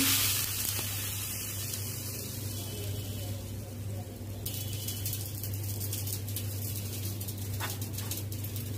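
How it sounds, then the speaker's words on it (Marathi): Cumin, mustard seeds and asafoetida tempering in hot oil give a steady hiss that sharpens partway through as the spiced oil is poured over chutney, a close continuous sizzle under a low background hum. "ही चटणीला आपण फोडणी देऊया।"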